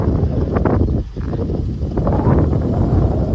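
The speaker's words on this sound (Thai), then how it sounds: "เนี่ยเสียงดูฟังเสียงลมนะคะ" Strong wind roars and buffets across an open area near electricity-generating wind turbines, a loud, steady rushing that dips briefly before gusting again, with no voices.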